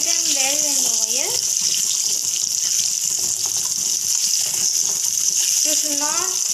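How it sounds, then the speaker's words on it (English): A constant, loud hiss of chicken drumsticks frying in hot oil runs the whole time, with a voice briefly heard at the start and end. "Fry them well in the oil."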